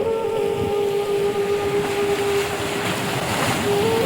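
Sea waves wash against a stone-boulder embankment on the Kerala coast, a steady, loud, broadband roar with faint tonal hum lines running throughout and no voices.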